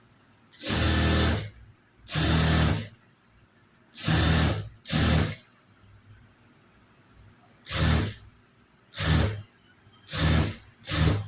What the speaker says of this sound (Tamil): இப்படி தைக்கும்போது கரெக்டாக இந்த 2 துணிகளை வந்து இழுக்கவே கூடாது, இழுக்காமல் தைக்கணும்.